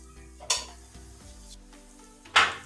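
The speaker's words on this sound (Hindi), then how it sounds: "ज़ीरे को थोड़ा सा फ्राई कर लेंगे" Cumin seeds fry in a pan for beetroot bhujia with a soft, steady sizzle. Two sharp metallic clinks of a utensil against the pan ring out close by.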